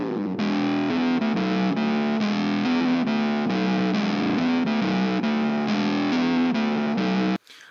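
Electric guitar played through an ENO octaver pedal, a distorted monophonic riff with a thick sub-octave bass tone that repeats steadily for about seven seconds before stopping suddenly, with no talking.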